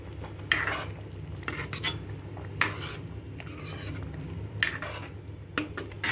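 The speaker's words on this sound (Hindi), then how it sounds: "बस इसको एक बार मिक्स करेंगे और फिर बंद कर देंगे।" Suran yam curry with crushed kasuri methi being stirred in a pan: repeated scraping and clinking of a spoon against metal in irregular strokes over a low background hum, close and fairly quiet.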